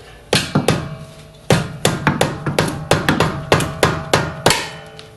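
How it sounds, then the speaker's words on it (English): A small rubber mallet whacks a wrench to loosen a bolt, sharp solid knocks in irregular bursts, about a dozen blows close up, each ringing briefly before fading. "get the wrench in there and a little rubber mallet"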